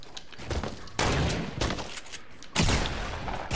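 Gunfire in the video game Fortnite, including a hunting rifle and pump shotgun, heard as a loud burst of shots with two sharp blasts standing out against dense, crackling game noise.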